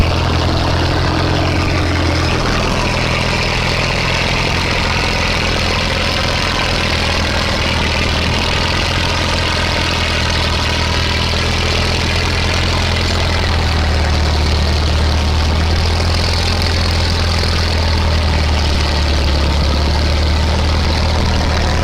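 A Soviet DT-54 tractor engine idles with a steady, loud, low diesel drone and a constant rumble, unbroken from start to finish with no voices.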